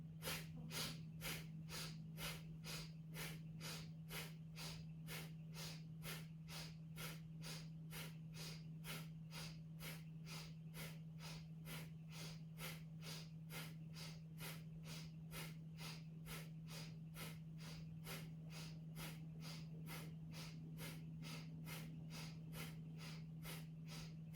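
Rapid Bhastrika bellows breathing in yoga: forceful nasal breaths pump in a fast, even rhythm, about two per second, sustained for the whole stretch, close and clear over a low steady hum.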